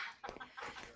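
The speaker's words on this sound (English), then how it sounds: "Tell me you didn't buy a dog, Mike" A dog's short barks or yelps, a few quick bursts within about a second, fairly close and moderately loud, with no one talking over them.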